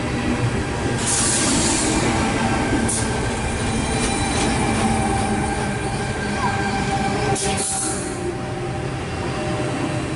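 A Sydney suburban train pulls into a station platform at Asquith, with a continuous loud rumble of wheels on rail and a few sharp squeals and brake hisses. No one speaks.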